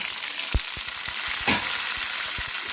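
Ginger pieces and tomatoes fry in a pan with a steady, fairly loud sizzle and hiss, broken by a few short thuds and scrapes from stirring.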